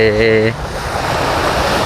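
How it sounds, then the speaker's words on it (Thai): Sea waves washing at the shore around sunset, a steady broadband rush that fills the clip after a brief tonal sound at the very start, with wind-like noise and no clear speech. "เสียงคลื่นทะเล"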